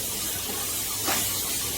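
Onions sizzle as they sauté in a pan for pepper chicken masala, giving a steady close hiss at moderate loudness with a brief flare near the end.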